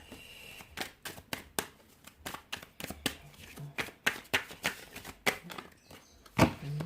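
A deck of tarot cards is shuffled up close, with crisp riffling flutters repeating in a quick, even rhythm and a soft tap of the deck at the end.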